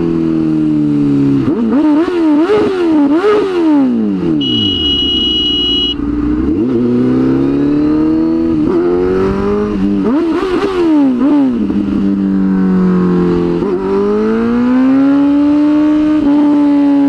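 A big Harley motorcycle engine revving loudly and continuously, with repeated rising and falling throttle blips, a brief steady idle in the middle, then more revs close to the listener.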